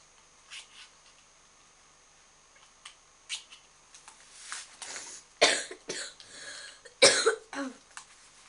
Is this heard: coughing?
yes